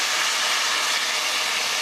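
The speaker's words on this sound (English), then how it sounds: "I think this is going to sizzle back up on me" Steady, dense broadband hiss with a crackling texture of hot oil sizzling in a pan before beef goes in for a stir fry, continuous and fairly loud with no voices.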